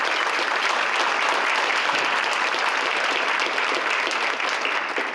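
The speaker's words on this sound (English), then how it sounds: "I'd like to ask for a round of applause to thank Fitchburg State for their support" A round of applause at a congressional luncheon, a full room clapping in a dense, even roar that holds steady and then begins to thin toward the end.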